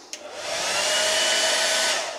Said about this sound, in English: Hairdryer, which you just turn on there.